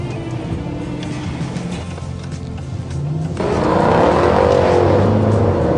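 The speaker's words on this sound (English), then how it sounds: "That is a 500 horsepower wallop in the back." A Mercedes CL63 AMG with its V8 accelerating hard, a deep engine roar that swells and rises in pitch and volume as it pulls, loud and close with no talking.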